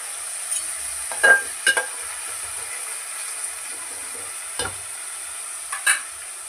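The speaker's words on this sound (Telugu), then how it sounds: "నేనైతే ఇప్పుడు ఉప్మా రవ్వ పోసేసుకుంటున్నా" Upma semolina roasting in oil with carrot and capsicum gives a soft, even hiss, marked by a handful of brief scraping and tapping strokes as it is stirred, fairly quiet, with no speech.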